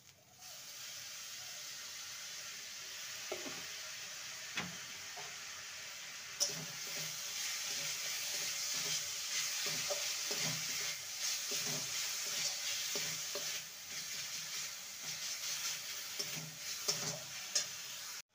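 Grated coconut cooking with liquid date palm jaggery in a pan, a faint continuous sizzle with intermittent soft stirring scrapes and occasional clinks, quiet and close, without speech.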